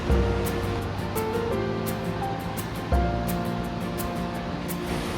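Rhine Falls waterfall in Switzerland roars with a loud, constant rush of water, broad and unbroken, with faint tonal hum underneath and no speech.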